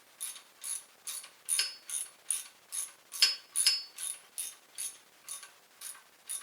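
Ratchet tightening a rocker bolt with washers on a 3800 V6 cylinder head, heard as a steady series of about a dozen crisp ratcheting clicks at a regular rhythm, close and fairly quiet, with no talk.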